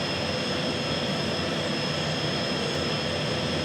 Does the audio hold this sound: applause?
no